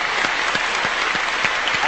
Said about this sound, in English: As the applause dies down